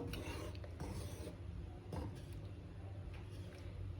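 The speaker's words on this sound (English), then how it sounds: "I'm just stirring everything through, so all the flavors and that will marinate together" A spoon stirs spices through toor dal in a pot, a steady low scraping and rasping that runs continuously at close range with no talk over it.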